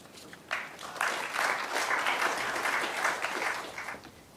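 An audience at a journalism award ceremony applauds the winner, a sustained wash of many hands clapping that swells in after a quiet start, holds steady, then begins to taper, heard at a moderate distance in a hall.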